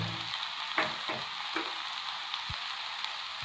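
Onions and tomatoes fry in a pan with a steady sizzle, with a few soft scrapes and stirring clicks scattered through it and no talking.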